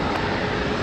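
A United A319 airliner arriving at Raleigh Durham airport, a steady loud jet roar filling the short moment with no voices.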